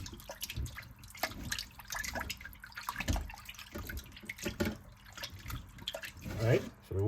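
Tap water runs and drips while raw chicken is rinsed a second time in a kitchen sink, splashing irregularly with louder gushes near the end, while a person talks over it.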